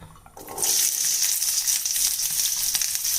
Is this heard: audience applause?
no